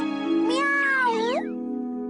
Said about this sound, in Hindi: अरे ये तो वही बिल्ली है।